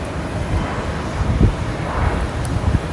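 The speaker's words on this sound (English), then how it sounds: "should see a Alaska E-175 departing currently" An Alaska Airlines E-175 jet departing Boise airport makes a steady, distant, rumbling roar that blends with wind buffeting on the microphone and stays fairly even throughout.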